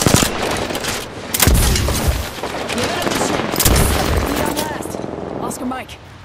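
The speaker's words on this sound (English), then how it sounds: "Spotted. Getting shot at." Rapid bursts of gunfire and booming impacts in the video game Apex Legends, loud and dense with rattling automatic fire, while a voice speaks over the action.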